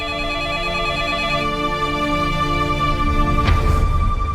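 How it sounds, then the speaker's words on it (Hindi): An old-style telephone bell rings steadily and close by through the whole stretch, with a slight bump in the texture near the end and no one talking over it. "देखना किसका फोन है"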